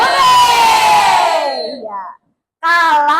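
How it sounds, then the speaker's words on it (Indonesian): A fifth-grade class of schoolchildren at an Indonesian elementary school shouts a loud, drawn-out cheer in unison. The shout cuts off into a brief silence before a second burst of young voices starts up. "anak-anak teriak apa? Hore!"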